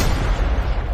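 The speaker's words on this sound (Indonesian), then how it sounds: "mereka malah dihujani tembakan" Gunfire erupts in a scene from the 2025 film Dongjie Rescue. It comes as a loud, deep, rumbling burst of booming shots with no voices over it.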